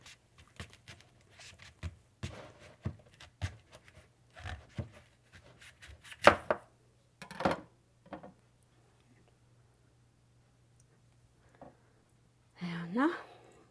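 A knife chops fresh fennel on a cutting board in a quiet kitchen, with a series of light taps followed by a few louder, sharper cuts.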